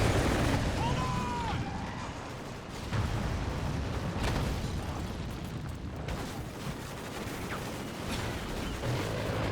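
A video game explosion on a balcony blows the player off, with heavy rumbling blasts and dull booms layered over a continuous roaring, crackling din that stays dense throughout.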